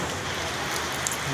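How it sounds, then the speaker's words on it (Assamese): Rain falls steadily outside a motor garage in Jogighopa, a continuous even hiss of drops on surfaces, moderately loud with no other sounds. "ৰাতিপুৱাৰ পৰা বৰষুণ পৰি আছে।"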